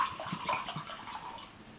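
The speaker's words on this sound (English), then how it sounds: "Put a little bourbon in there." Bulleit bourbon splashes into a ceramic mug in a brief, close pour with light liquid trickling that fades out.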